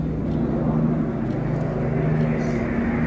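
Steady, loud roar of a Eurofighter Typhoon jet during a flying display at Ragley Hall, a broad continuous rumble sustained throughout without breaks.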